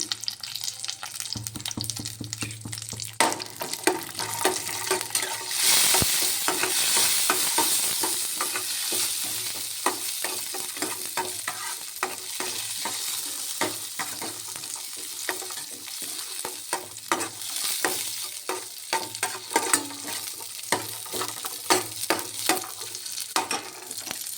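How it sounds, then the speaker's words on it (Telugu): Cashews, almonds and raisins fry in hot fat for guava halwa, giving a steady close sizzle with frequent scraping and stirring clicks throughout, and no talking. "ఇందులోని జీడిపప్పు, అదే బాదం పప్పు, కిస్మిస్ వేసుకొని వేయించుకుంటున్నాను."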